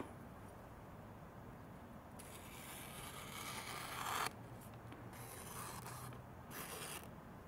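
Sharpened high-hardness steel knife slicing through paper, a continuous dry rasping hiss in several strokes separated by short pauses, close and fairly quiet, with no talking.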